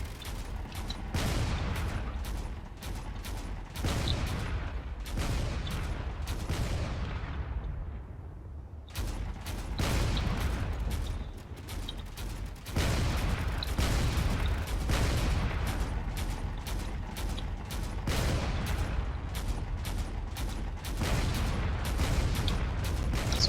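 Spaceship cannons fire in Drone Wars, with rapid repeated blasts and booms in dense rhythmic bursts and one longer fading sweep partway through, loud and continuous.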